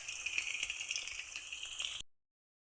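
Chicken pakora deep-frying in oil, a steady bright sizzle with fine crackling that runs evenly for about two seconds and then cuts off.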